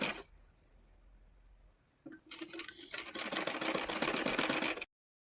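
A sewing machine stitches piping onto blouse fabric, starting after a quiet pause with a fast, steady mechanical whirring and ticking that runs for a few seconds, then stops abruptly.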